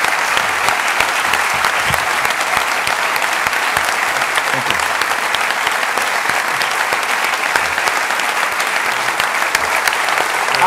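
Sustained, dense applause from a lecture audience at Purdue University, loud and steady throughout without pause, with no voices standing out above it.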